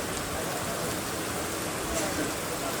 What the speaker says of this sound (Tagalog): Grabe, sobrang ulan dito.